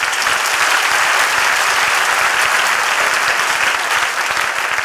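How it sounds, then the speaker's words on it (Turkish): Studio audience at a Turkish TV sketch comedy show bursts into steady, loud applause that fills the whole stretch, dense and continuous with no pause. "Gülhan Tekin'e bir alkış."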